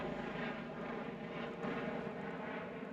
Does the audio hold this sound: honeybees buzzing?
no